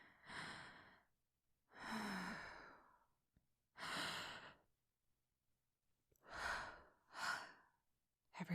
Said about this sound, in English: A couple more deep breaths.